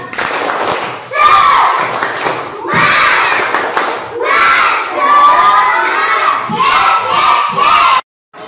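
Primary schoolchildren in a classroom chant and clap a spirit cheer together, loud shouted bursts in several rhythmic phrases separated by short pauses, ending abruptly.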